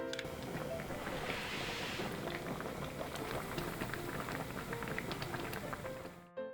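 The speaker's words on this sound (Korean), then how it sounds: "자 이렇게 지금 한번 싹 전골냄비에서 끓었죠" Beef tripe hot pot bubbles in a pot, with a steady, dense boil of popping bubbles and sizzling liquid running at an even level throughout before a brief dip at the end.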